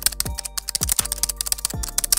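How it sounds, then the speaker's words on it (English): AI-generated computer keyboard typing effect: fast, irregular clacking keystrokes with a few heavier thumps, close and dry, no voices. "Now let's try generating a keyboard typing sound."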